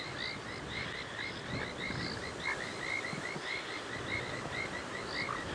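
Painted reed frogs call in a dense, continuous chorus at a dam at dusk, their bright repeated chirps overlapping steadily and close, with no voices.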